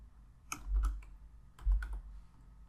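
A few keystrokes on a computer keyboard while code is written, two short clusters of soft clicks over a low hum, quiet and close.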